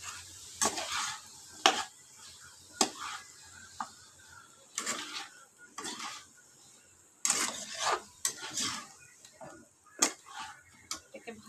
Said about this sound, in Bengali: এবারে আমি কেটে রাখা আলু আর লাউটাকে দিয়ে দিলাম